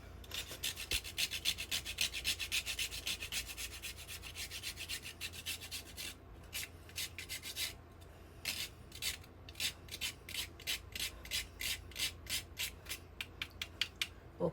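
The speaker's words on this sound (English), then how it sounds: "Always have a little grater." A small hand grater rasps against food in steady repeated strokes, close and fairly loud, the scraping turning into distinct separate passes toward the end, with no talking.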